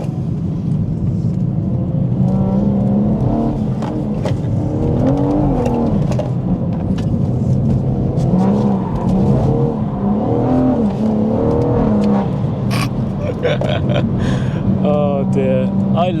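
BMW M140i tuned to 500 bhp on a track, engine note rising and falling through repeated revs and gear changes, loud and continuous from inside the car.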